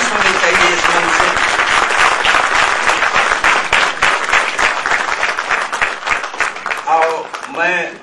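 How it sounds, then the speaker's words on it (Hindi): Loud, dense applause from a large audience at a political rally stage, saluting a former Gujarat DGP, steady sustained clapping that thins and fades near the end, with a voice briefly rising over it. "इनके ऊपर तालियों की बारिश होनी चाहिए इस मंच से।"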